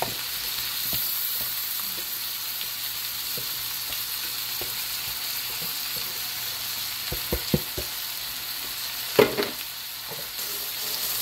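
Steak with onions sizzles in a pan, a continuous bright frying hiss held steady and close, broken by a few small pops and a louder clatter near the end, with no talking.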